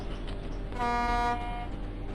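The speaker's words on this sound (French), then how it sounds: "il a un klaxon de camion" A truck horn in the SnowRunner video game sounds one steady, loud blast lasting about half a second, set over a constant low engine rumble with no talk.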